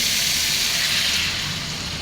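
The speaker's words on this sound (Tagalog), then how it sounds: "lalagyan na natin siya ng tubig" Water pours steadily into a cooking pot of golden-browned chicken for tinola, a close, rushing hiss that eases slightly toward the end.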